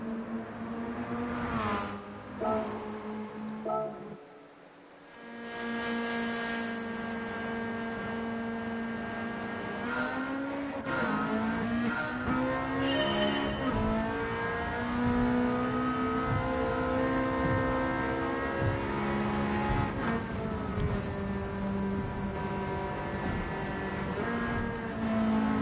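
Engine of a Japanese road car in Gran Turismo 7, a steady droning note that dips briefly, then climbs and shifts through gears with rising revving pitch, loud and continuous with no talk.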